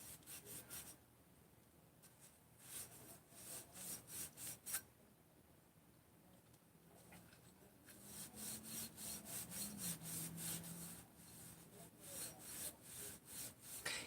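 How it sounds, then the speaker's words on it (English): A Scotch-Brite pad rubs back and forth on the crankshaft of a Husqvarna 288XP chainsaw during bearing removal, giving quick, close, repeated scratchy strokes in bursts with short pauses between. "Just a little Scotch-Brite on the crank here"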